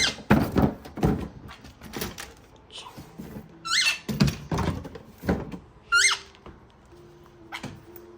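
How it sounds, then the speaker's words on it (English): A door is opened indoors in a home with a pet Quaker parrot and sun conure, giving several close, loud thunks and clicks with a brief creak, while birds chirp and squawk faintly in the background. "I'm gonna open the door 1 second."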